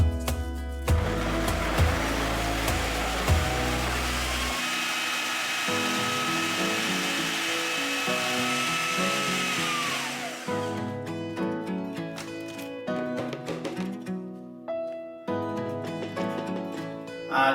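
Food processor grinding digestive biscuits into fine crumbs, a loud whirring motor running steadily for several seconds, then stopping and restarting in shorter pulses with clattering in between.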